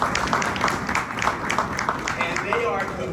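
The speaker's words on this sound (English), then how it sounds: "them a round of applause as well," Outdoor audience at a minor-league stadium groundbreaking gives a round of applause, an even, continuous wash of clapping hands heard close and fairly loud from start to finish.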